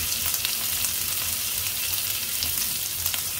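Ginger, garlic and green chilli sautéing in a pan, giving a steady, even sizzle with soft crackle that holds throughout without a break; no voices.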